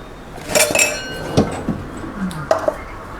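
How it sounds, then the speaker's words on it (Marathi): A mixer jar is picked up and handled in a home kitchen while flaxseed and dry-fruit laddus are being made, with several sharp metallic clinks and knocks against other utensils, close and distinct, with no talking. "मी आता मिक्सरचं भांडं घेते"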